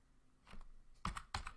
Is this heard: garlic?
no